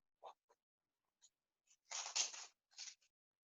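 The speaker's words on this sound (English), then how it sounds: "Let's mute all again because I hear papers shuffling." Papers rustling and shuffling near a microphone during an online group session, in short scattered bursts with a denser, louder flurry in the middle, otherwise quiet, with no talking.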